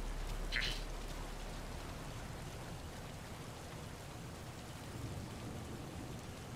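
Steady rain pours throughout a Metal Gear Solid V: The Phantom Pain game scene, a continuous hiss with a brief brighter splash near the start; no clear thunder stands out.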